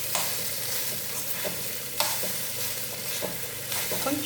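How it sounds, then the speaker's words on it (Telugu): Cooked rice stirred into a sizzling tempering in a pan, a steady close fry hiss broken by several scraping strokes of the spoon against the pan. "ఈ అన్నం ఇందులో వేసుకుంటున్నాను"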